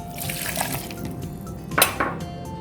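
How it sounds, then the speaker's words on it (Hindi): Milk poured into a blender for a mango smoothie, a steady gentle splashing with a couple of louder sloshing bursts near the end. "और अब हम दूध डालेंगे"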